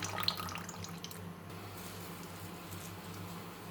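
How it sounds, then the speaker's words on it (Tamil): Tamarind water is poured for a fish curry, starting as a bright, splashy pour for about a second and a half, then settling into a softer, steady trickle with no talking. "புளித்தண்ணி"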